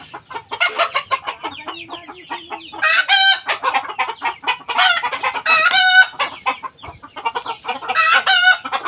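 Native Bangladeshi chickens, including two-month-old chicks, cluck busily up close, with several loud crowing bursts rising over the steady clucking, no people talking.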